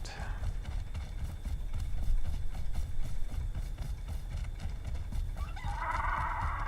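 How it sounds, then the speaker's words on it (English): A chicken clucks in a video game. A brief cluck comes near the end over a steady, muffled background of rhythmic thumping footsteps. "I also heard a chicken"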